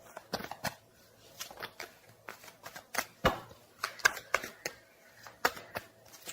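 Tarot cards being shuffled, with repeated papery riffles and soft slaps in uneven bursts, close and fairly loud.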